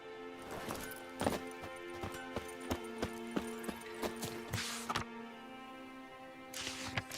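Roach, a horse in the video game The Witcher 3, galloping, a close rhythmic clip-clop of hooves in a steady run, with background game sounds and a couple of breathy snorts or whooshes.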